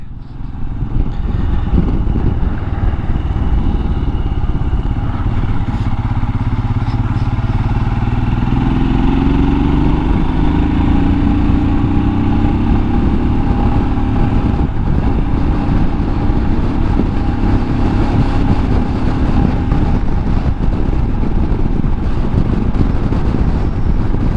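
A Royal Enfield Himalayan motorcycle rides along steadily, its single-cylinder engine thrumming loud and close throughout with gear changes and shifting pitch, mixed with wind rush across the microphone and no speech.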